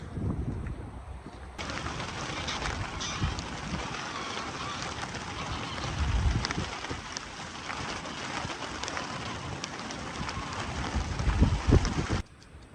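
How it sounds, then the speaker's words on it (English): Strong wind gusting across a fishing lake at Coking Farm, a steady broadband roar with buffeting surges, loudest near the end, and no voices. "It is very windy"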